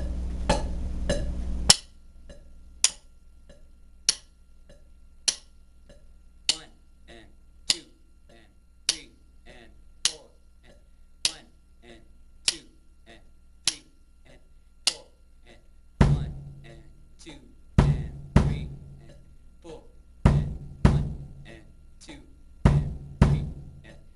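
Steady, evenly spaced clicks tick along, then a rock kick and snare beat joins near the end with heavier, booming hits in a repeating pattern, bass drum on 1, the end of 2, 3, and the end of 4.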